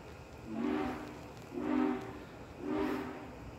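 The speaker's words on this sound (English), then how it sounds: "train going through" A train passes at a distance, its horn sounding in three long swelling blasts that rise and fade at a steady interval, with a low rumble beneath.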